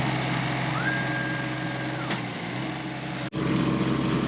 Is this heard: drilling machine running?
yes